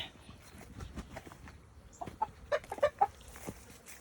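Several chickens cluck nearby in short bursts, a few louder calls bunching together toward the end over a quiet outdoor background.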